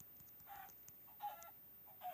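Chickens in the Minecraft video game give short, faint clucks, three brief bursts spaced across a quiet, near-silent background.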